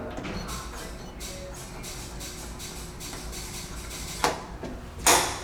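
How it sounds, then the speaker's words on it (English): Relays click in a vintage 1972 Otis Lexan elevator in Sugar Land: a steady mechanical hum carries soft repeated ticks, then two sharper, louder clacks near the end, fairly close. "Listen to the relay."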